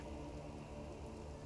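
Steady rainfall in Divinity: Original Sin Enhanced Edition, a soft continuous patter of drops on the ground, fairly faint and even throughout with no voices.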